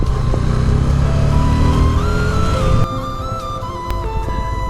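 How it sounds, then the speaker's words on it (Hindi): A motorcycle rides in second gear at minimal throttle on a cliffside mountain road near Reckong Peo and Kalpa, a steady close engine drone with faint pitch changes that drops in level partway through. "बाइक को मैंने सेकंड गियर में रखा हुआ है, थ्रॉटल मिनिमम और आंखें सीधे रोड पे।"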